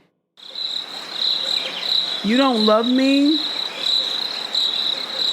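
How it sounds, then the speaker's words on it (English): Crickets chirp in a steady, shrill, continuous sound effect throughout, and a voice speaks briefly over them in the middle. "Wait, where are my crickets at?"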